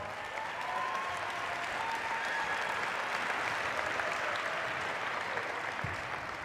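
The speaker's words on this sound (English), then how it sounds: "Give them a round of applause." Crowd applause at a community pep rally for a high school basketball Final Four team, a continuous even roar of many people clapping and cheering at moderate distance for over six seconds.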